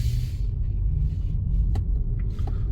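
A car pulls away slowly on a Sydney road during a driving test, heard from inside as a steady low engine and road rumble with a few faint clicks and knocks.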